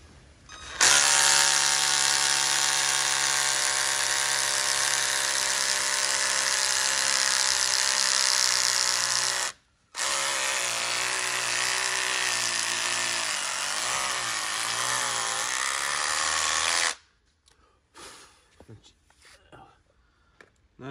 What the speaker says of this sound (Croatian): ovdje je sad udarno bušenje ili čisto bušenje. Evo sad ću vam pokazati kako to radi na betonskom podu.